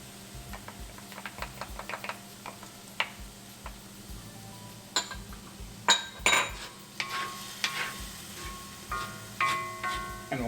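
Onions cooking in a pan with turmeric powder, a low steady sizzle under scattered spoon clicks and scraping stirs, with a few louder clatters near the middle.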